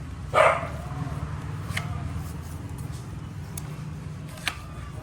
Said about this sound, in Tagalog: Yan, mga aso ni Kiray